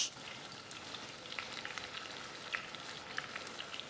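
Leaves sautéing in a pan for yellow-broth chicken porridge made without coconut milk: a steady, even sizzle and crackle of hot oil with fine scattered pops, continuous and moderately quiet throughout.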